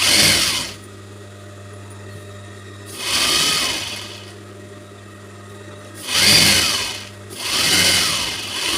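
Sewing machine stitching in four bursts of a few seconds each, separated by short pauses, with a steady low motor hum underneath throughout.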